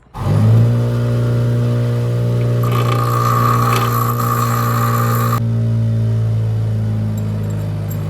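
A motor-driven grinder flattens the rounded, beveled ends of metal bolts so they weld more easily while a slam mower is being built: a steady loud motor drone with a harsher grinding contact in the middle, and no talking.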